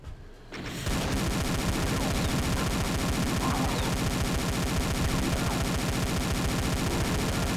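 Rapid pistol gunfire in the Doom mod Project Uber, an extremely loud, dense barrage of shots fired in a fast continuous stream for several seconds, close and harsh, with no talking.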